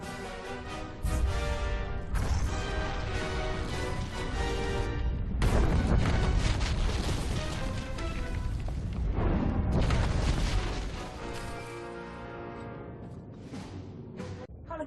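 A detonator blast in Star Wars: The Old Republic erupts as a loud, booming explosion with crashing debris, the roar swelling and rolling on for several seconds before slowly fading.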